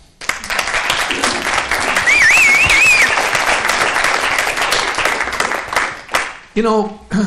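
Sustained audience applause fills an arts awards evening, steady and loud for several seconds before tapering off, with a voice briefly speaking near the end.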